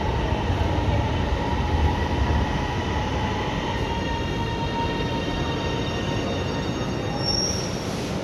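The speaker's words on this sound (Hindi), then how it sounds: "ट्रेन आ गई।" An Orange Line metro train pulls into a station, its wheels letting out a loud, sustained high squeal over a continuous rolling rumble, with no talk.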